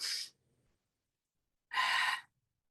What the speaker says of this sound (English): Now, one last time, make it a really long exhale.